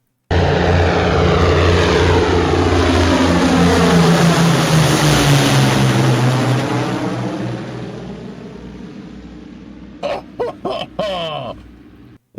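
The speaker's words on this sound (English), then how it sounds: "Why have 1 Merlin engine when 4 do trick?" A four-engine propeller aircraft powered by Merlin engines roars loudly as it passes, with a Doppler-like pitch sweep, then fades away over several seconds, followed by a few brief bumps and a short voice at the end.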